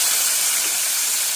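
Chicken fries in a pan with garlic and chilies until lightly charred, giving a steady, bright, close hiss of sizzling oil with no voices.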